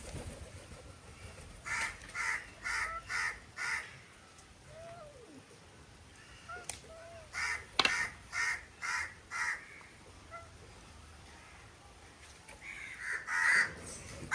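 Crows waiting for fish caw in repeated bursts of four or five harsh calls, with a pause between the groups, over a faint patter like light rain, moderately near and with no voices.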